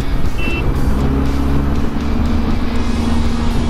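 Mumbai road traffic heard from a Benelli TRK 502X motorcycle: a loud, continuous engine drone with a steady low hum and surrounding vehicle noise, no voices, close and dense throughout.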